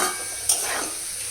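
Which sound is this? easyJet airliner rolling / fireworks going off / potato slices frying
potato slices frying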